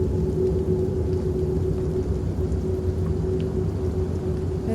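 Steady rain pours down in a horror video game, a constant dense hiss with a low rumbling undertone and no voices.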